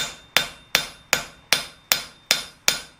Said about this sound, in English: you just want to keep hammering these out until you get them all done